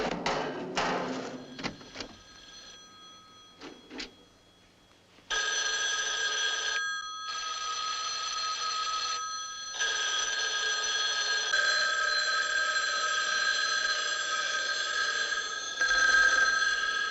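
Telephone bell from the 1971 film The Omega Man trailer rings in long repeated electronic bursts with short gaps, preceded by a few sharp clanks, loud and unaccompanied by talk.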